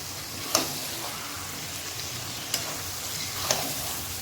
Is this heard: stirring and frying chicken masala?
yes